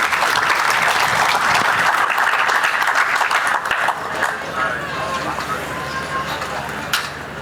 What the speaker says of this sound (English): let's give Mike and the staff a round of applause